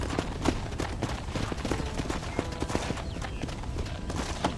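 Horse hooves gallop steadily in Red Dead Redemption, a fast, continuous clatter of hoofbeats on dirt, close and fairly loud with no voices over it.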